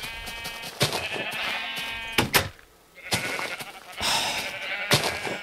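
Sheep bleat repeatedly in the Minecraft video game, a run of loud, close, wavering cries separated by brief gaps, with no talking.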